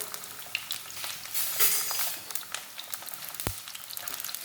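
Ground onion and tomato paste frying in a pan, a steady close sizzle with stirring scrapes and one sharp knock near the end, no talking.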